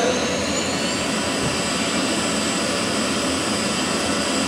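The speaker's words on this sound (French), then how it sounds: "Mettez plein gaz." The roar of an F-16 fighter's jet engine at full throttle in a flight simulator game, a loud, steady, broadband rush with a faint whine on top, constant throughout with no voices.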